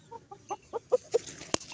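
A chicken clucks in a short series of rising, evenly spaced calls, close and clear, ending with a sharp sound.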